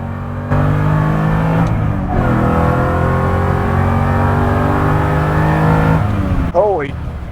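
A Revology 1968 Mustang Fastback Cobra Jet accelerates hard, its engine note climbing through a steady loud roar from inside the car for several seconds, with a brief shift and a voice near the end.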